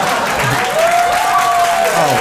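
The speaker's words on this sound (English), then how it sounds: "Listen, y'all don't gotta clap." Audience applause fills a comedy show venue, a steady, dense wash of clapping from a crowd that holds evenly from start to finish with no voice on top.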